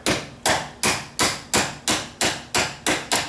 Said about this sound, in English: just tapping the hinge pin in